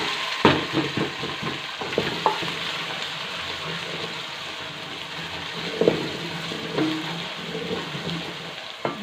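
Onions frying with ginger-garlic paste in a pan for a chana gravy, a steady moderate sizzle with scattered clicks and scrapes of stirring, no talking.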